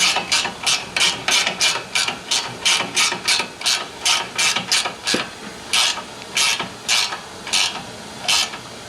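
A hand ratchet works a fastener while a leveling kit goes onto a 2022 Toyota Tundra, making about twenty steady, evenly spaced ratcheting strokes, each a close, loud burst of clicks, with no talking.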